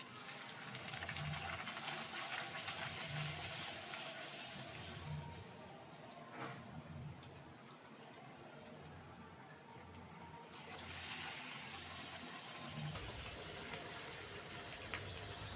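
Puri dough frying in hot oil in a home kitchen, giving a steady broadband sizzle and bubbling hiss that swells and eases across the whole span, with no talk.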